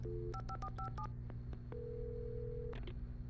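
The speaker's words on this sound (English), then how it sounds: "Old school phone." Old-style telephone keypad tones from the video game Alan Wake Remastered beep in a quick burst of short presses, then one long steady tone, against a low background hum.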